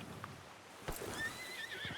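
A horse whinnies in Red Dead Redemption 2, a sharp neigh rising out of quiet background with some light clopping; fairly faint overall, no talk.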